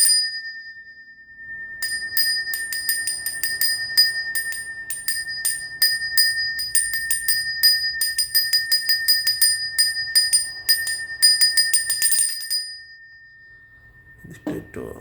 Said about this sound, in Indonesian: Nah, itu adalah genta kuno. Jadi genta kuno perunggu.